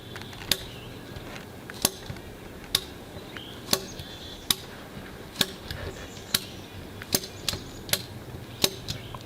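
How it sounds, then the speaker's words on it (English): A ratchet strap is cranked tight across leaning firewood shed walls, with sharp, evenly spaced clicks about once a second, close and crisp over a quiet outdoor background. "I'm just going to ratchet both of them together."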